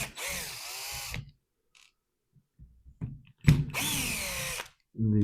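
A cordless power drill backs screws out of a DeWalt tool case in two close, loud whirring bursts with rising pitch, separated by quiet clicks and handling noise.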